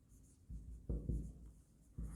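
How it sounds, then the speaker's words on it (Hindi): Pen writing on paper during an accounting lesson on share forfeiture journal entries, a few soft scratchy strokes in short bursts, quiet and close, with no talk over it. "लिखते हैं"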